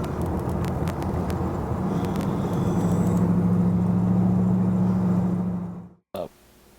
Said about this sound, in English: It picks up just fine. It's not a high horsepower rig. It's a 302 Ford, and it runs great.